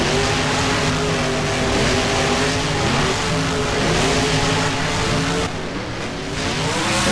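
Monster truck engines race in BeamNG at MetLife Stadium, a loud, dense roar of several revving engines with shifting pitch, continuous and close throughout.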